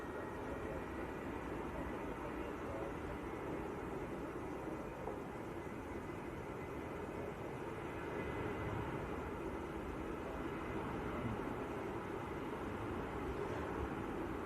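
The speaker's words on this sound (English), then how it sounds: "BizJet next in. Delta India Golf Alpha Lima from Biggin Hill, a couple of miles out. And that is a Cessna citation." A Cessna Citation business jet approaches Manchester Airport from a couple of miles out, a steady distant broadband jet rumble that holds level throughout with no talk over it.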